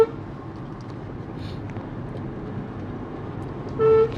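A car horn on a mountain ghat road gives one short, loud honk near the end, rising over a steady low rumble of road and engine noise.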